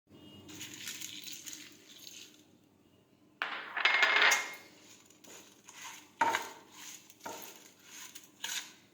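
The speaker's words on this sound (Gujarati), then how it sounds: "હવે આપણે મરચાં સાથે ભેળવી દઈશું" Crushed paste is stirred together with chillies in a pan for a Gujarati chilli sambharo, with scraping spoon strokes and metallic clinks against the pan, close by, in uneven bursts with quieter gaps and no speech.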